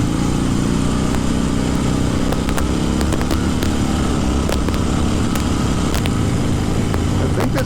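A 1970 Harley-Davidson XLCH Sportster motorcycle engine runs at high revs while riding, a loud continuous rumble with steady throttle and occasional sharp clicks, no talk over it.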